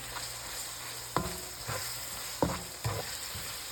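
Minced beef with methi (fenugreek leaves) cooking in spices in a pan: a steady sizzle runs throughout, broken by a few sharp scraping stirs of the spoon at irregular intervals, with no talking.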